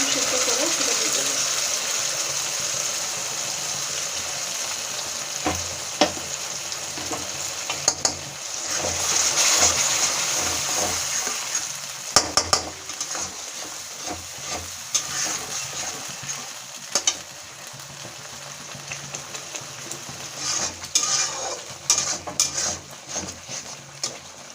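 Spice paste frying and being stirred in oil for a Bengali eggplant curry, a steady close sizzle with scraping and clinks of a utensil against the pan, continuing for the whole stretch.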